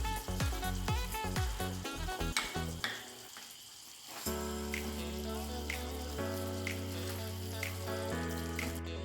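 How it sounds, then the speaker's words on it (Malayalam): Roasted ground masala going into a simmering brinjal curry, a soft steady sizzle and bubbling with occasional light clicks of a utensil, following a brief stretch of tonal background sound at the start. "നമുക്കിതിലേക്ക് ഈ വറുത്തരച്ച മസാല ഇട്ട് കൊടുക്കാം."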